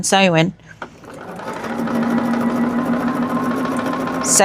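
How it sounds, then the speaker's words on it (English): A sewing machine stitching a charm pack quilt block runs in a steady, close, continuous whir for several seconds after a brief spoken voice at the start. "I can just keep sewing."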